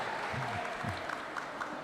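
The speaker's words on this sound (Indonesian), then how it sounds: "Boleh tepuk tangan." An audience applauds during a medal presentation at a church choir competition, a steady, fairly quiet wash of clapping that continues throughout, with a voice faintly present beneath it.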